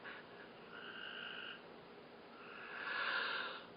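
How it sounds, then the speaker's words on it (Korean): Frogs croaking outdoors at night in a steady chorus, with louder pulsing bursts rising and falling, fairly distant and heard alone without talk. "여러분 개구리 소리 안 들려요?"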